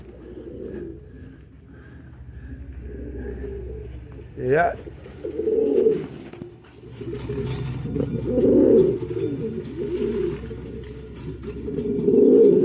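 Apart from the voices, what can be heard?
pigeon calling a hen at its loft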